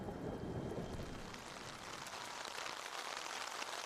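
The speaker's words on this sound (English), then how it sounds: "Unfortunately, the weather was not very welcoming, with the appearance of a large thunderstorm." A large thunderstorm at a British airshow in 2001 brings heavy rain hissing steadily over surfaces, with a deep rumble of thunder rolling low at the start, loud and continuous without talk.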